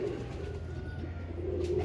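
Fancy pigeons cooing in a loft, a steady low, throaty murmur of several birds running through the whole stretch at moderate level, with no talk over it.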